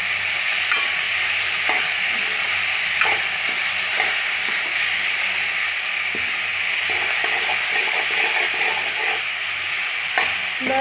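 Onions, cumin, tomatoes and green chillies sizzle loudly in a pan, with a steady frying hiss throughout and occasional scraping taps of a stirring spoon against the metal, close up and with no speech.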